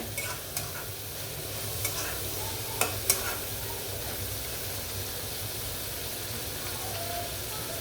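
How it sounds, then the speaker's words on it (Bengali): Chepa shutki, fermented dried fish, stir-fried in a pan, a steady close sizzle and hiss with a few sharp scrapes and clinks of a spatula stirring. "চাপা শুটকি ভালো করে কষিয়ে নিলে"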